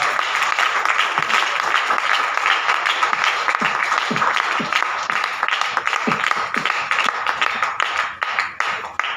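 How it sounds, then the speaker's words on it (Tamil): An audience at a property grand launch event in Balajabad applauds steadily for several seconds, a dense, sustained clapping that fills the room before tapering near the end. "நம்ம நற்பவி குழுமத்துடைய மேனேஜிங் டைரக்டர் அவர்களை நல்ல ஒரு கரகோஷத்தோட அவரை இன்வைட் பண்ணலாம்"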